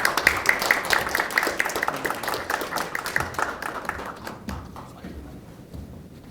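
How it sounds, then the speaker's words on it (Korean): Audience applause at a political party's welcome ceremony for new recruits, a dense run of clapping from a crowd that tapers off toward the end. "다시 한번 큰 박수 부탁드리겠습니다."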